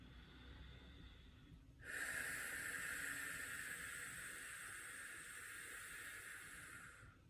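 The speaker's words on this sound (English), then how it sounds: "and then exhaling out of the nose." A breathwork exhale forced out through the nose, a long, steady, airy hiss that starts abruptly after a quiet moment and holds for several seconds before fading, close and clear, with no talking.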